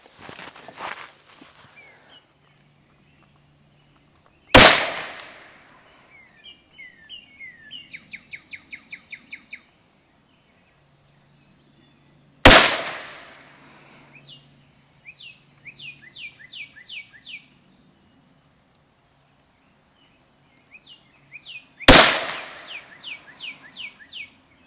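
An M&P 22 Magnum pistol fires Hornady 30 grain V-Max rounds at an outdoor range, three sharp, loud shots spaced several seconds apart. Each report rings out, and bursts of bird chirping fill the gaps between them.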